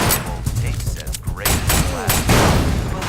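Gunshots in the video game Headhunter, a dense run of sharp shots firing in quick succession, loud and close, with a voice talking over them.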